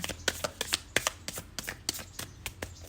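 Tarot cards being shuffled by hand, a quiet series of quick riffling flicks and soft taps in an irregular rhythm, close and alone.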